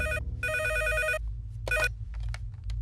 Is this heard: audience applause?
no